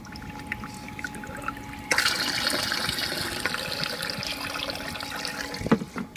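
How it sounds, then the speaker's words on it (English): Water runs in a constant flow into a fogger reservoir, starting with a sudden rush, then a steady trickle and splash close by, with a faint tonal hum underneath. "The reservoir, I keep a constant flow of water,"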